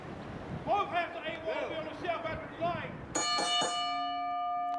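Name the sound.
wrestling ring bell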